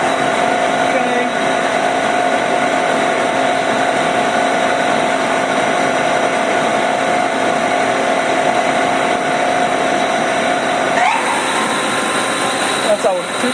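A CNC machine spindle runs steadily at up to 3000 RPM, a loud sustained whine with a strong constant tone, shifting briefly near the end as the speed changes.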